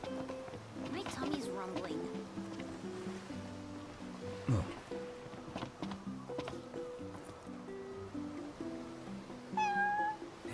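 In the Final Fantasy XV video game at Galdin Quay, a cat gives a few short meows, the clearest one near the end, while characters talk and surf washes in the background.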